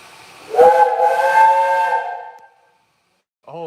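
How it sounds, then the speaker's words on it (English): Steam locomotive whistle on the Romney Hythe and Dymchurch Railway, one loud sustained chord-like blast of about two seconds, followed by a brief hiss or second short toot at the end. "someone sounds very enthusiastic with the whistle."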